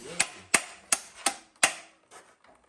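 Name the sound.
hammer striking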